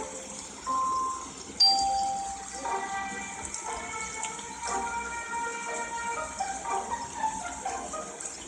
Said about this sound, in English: She needs to ring the melody on bells.